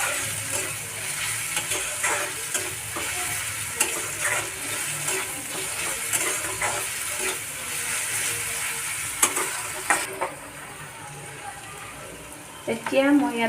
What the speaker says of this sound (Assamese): এতিয়া আটাখিনি মিহলি কৰি ভালদৰে ভাজি ল'ম।